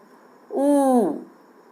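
A single drawn-out owl hoot, fairly loud and tonal with a slight wavering fall, rises out of near silence and fades after about half a second.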